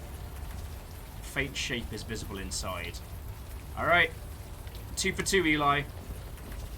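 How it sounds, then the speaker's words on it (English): Warm rain falls steadily in the video game Unavowed, a soft constant hiss running beneath the whole stretch while someone talks over it. "the warm rain is coming down"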